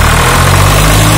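An old Swaraj 744 tractor from around 2000, original diesel engine running at idle, a loud, steady low rumble with continuous vibration, close by and uninterrupted, with no talking.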